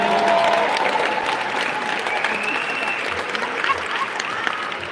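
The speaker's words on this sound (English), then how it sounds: "Can we please give a big round of applause for Gillian?" An audience at an Immigrants' Day event in a State House hall breaks into loud, sustained applause that fades slightly toward the end, with no voices over it.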